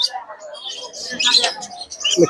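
A cockatiel chirps at a busy bird market, with short bright calls rising over a crowd murmur and other birds, plus a sharper close chirp near the end.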